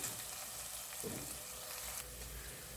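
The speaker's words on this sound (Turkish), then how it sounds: "Hafif biraz kavuracağım." Lentil soup base sautéing in a pot, a steady close sizzle and crackle of frying with a brief stirring scrape in the middle, no talking.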